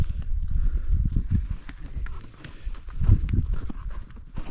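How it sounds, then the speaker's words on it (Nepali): Horse hooves thud and clop along a mountain trekking trail between Sandakphu and Phalut as a pack horse carries loads, irregular steps fairly close, with rustling around them and no talk. "घोडाले सामान बोकेर आउँदैछ है"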